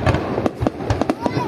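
Big firecrackers explode in a rapid series of sharp bangs during Lunar New Year celebrations, loud and fairly close, with people talking underneath.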